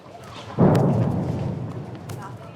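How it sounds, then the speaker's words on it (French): A single distant explosion breaks the quiet of deserted city streets, a dull low thump followed by a rumbling tail that slowly fades over a couple of seconds. "Le silence qui règne dans les rues désertes est de temps en temps rompu par des bruits d'explosion au loin."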